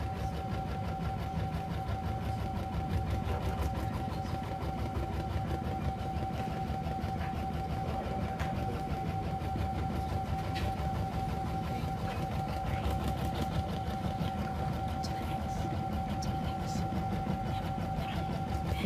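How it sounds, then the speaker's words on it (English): An embroidery sewing machine stitches a bunny design into stretchy Minky fabric, giving a steady, continuous mechanical whirr and rapid needle chatter with a constant tone, close and alone for the whole stretch. "Now it goes back and does the triple stitch."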